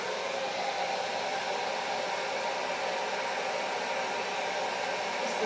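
A hair dryer blowing air across blue acrylic paint in fluid art pouring, a steady, loud, unbroken whooshing hiss that holds constant throughout.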